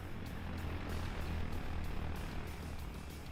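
A Shahed drone flies overhead in a PvP military video game, a steady droning buzz of its engine that holds at constant loudness for a few seconds with no one talking over it.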